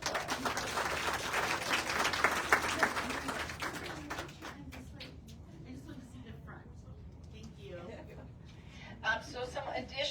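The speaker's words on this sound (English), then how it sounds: "Let's give her a round of applause." Brief applause rises for a model at a clothing fashion show, clapping filling the first few seconds before fading, then a presenter speaks over quieter room sound.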